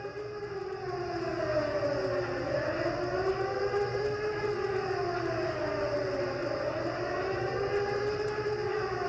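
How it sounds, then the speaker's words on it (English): Old emergency alert civil defense siren wailing continuously, its pitch slowly rising and falling in long sweeps, steady and loud throughout with no talking. "it sounds like a siren"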